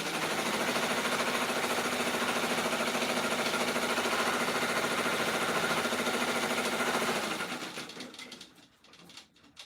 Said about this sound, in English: So it's going to do the placement stitch for each real quick.